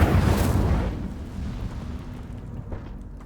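In Hogwarts Legacy, the Incendio fire spell goes off with a loud, deep fiery burst that fades into a long rumbling tail. No one speaks.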